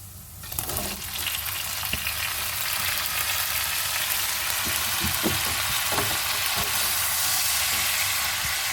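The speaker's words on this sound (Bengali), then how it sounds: "এখানে দেখো পেঁয়াজ আর রসুনটা খুব ভালোভাবে ভাজা হয়ে গেছে।" Onion, garlic and vegetables fry in hot oil in a pan for a dried lotia fish curry, a loud steady sizzle with occasional stirring clatter close up.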